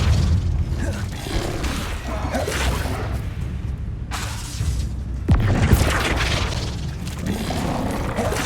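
The Flipendo spell in Hogwarts Legacy lands as a series of loud, close booming whooshes and crashing impacts, with a sharp hit midway, over busy game noise.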